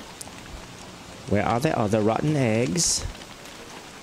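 Constant rainfall hisses in the background of the video game Don't Starve Together while a person speaks briefly over it.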